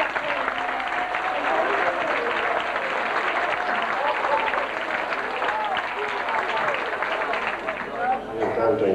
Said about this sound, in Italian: Ancora un applauso e un saluto.